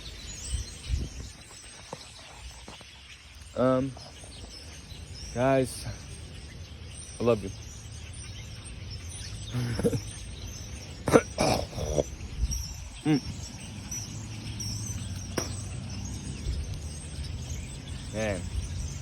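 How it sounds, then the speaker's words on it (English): Birds call outdoors in the countryside in short, repeated chirping phrases spaced a few seconds apart over steady insect and ambient hiss, with someone talking briefly in between. "Sounds of these birds are just so majestic, for real."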